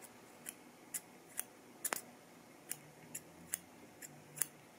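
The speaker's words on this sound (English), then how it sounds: "they sound like a good pair of scissors" A pair of scissors with holographic handles and plain blades snips in the air about ten times. The crisp, metallic clicks come at an even rhythm, close and quiet, against near silence.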